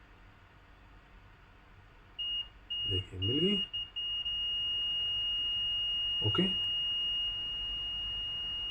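A multimeter's continuity buzzer sounds while a Dell power supply's 8-pin line with a tripping fault is probed: a steady, high electronic tone holds for about five seconds, with brief talk before and over it.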